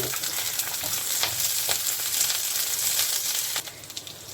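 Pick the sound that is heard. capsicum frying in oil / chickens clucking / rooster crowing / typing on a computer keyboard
capsicum frying in oil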